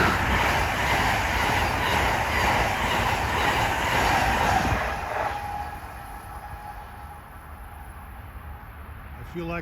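SEPTA regional rail train 9754 from Trenton to Philadelphia passing close by at speed, a loud steady roar of wheels and cars on the rails that thins out midway to a quieter rumble with a faint squeal near the end.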